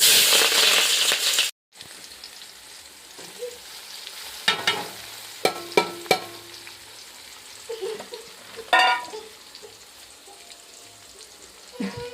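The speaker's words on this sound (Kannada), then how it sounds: "ನೋಡಿರಿ ಚಟ್ಪಟ್ ಅಂತ ಸಿಡತ್ತ ಎಣ್ಣೆ ಕಾಯ್ದದ ಅಂತೇಳಿ" Hot oil in a pan for village-style milk churumuri with onions, giving a loud steady sizzling hiss at first, then quieter crackling with scattered stirring clinks.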